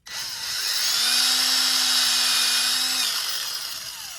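A power drill bores a quarter-inch hole in wood for a cigar box guitar. It gives a steady, loud, high whine that holds for about three seconds and then eases slightly. No voices are heard.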